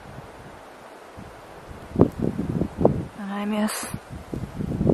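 Wind blows across an open desert campground at Skull Hollow in Oregon, a steady rushing texture with gusty rises, running under a person talking quietly nearby.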